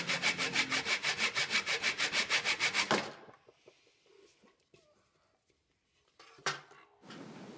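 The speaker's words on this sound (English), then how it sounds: "I can cut it off the waste block." A handsaw cuts through wood in rapid, even back-and-forth strokes, separating a segmented wooden bowl from its waste block, for about three seconds, then stops; quiet shuffling and knocks follow.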